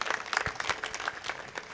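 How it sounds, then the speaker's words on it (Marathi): Audience applause at a week-long devotional gathering in Chandanpuri, Malegaon, with dense, steady clapping from a crowd filling the whole moment at moderate volume. "एकदा मनापासून टाळ्या वाजवा त्यांच्याकरता."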